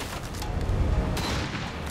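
Gunfire in the video game Mafia II, a dense burst of rapid shots and booms crowding together over about two seconds, loud and close with no voices.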